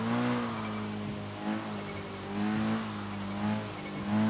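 Car engine in Forza Horizon 3, a road car with turbo and all-wheel drive, rumbling and revving steadily with rising and falling pitch over a few seconds, fairly close and with no talk.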